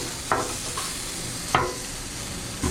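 Squash and zucchini sizzling on a Blackstone griddle at a campsite, a steady close hiss broken by a few sharp scraping strokes of a spatula, with no talk.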